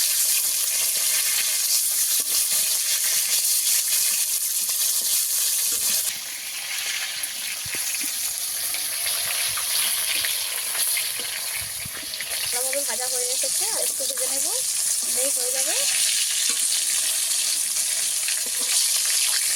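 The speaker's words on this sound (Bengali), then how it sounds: "একটু লাল লাল করে ভেজে নিতে হবে আপনাদের একটু ভালো করে ভেজে নিতে হবে মাথাগুলোকে" Bhetki fish heads frying in hot oil in a pan, a steady, close sizzle with a bright crackling hiss that runs throughout, softening briefly partway and then returning at full strength.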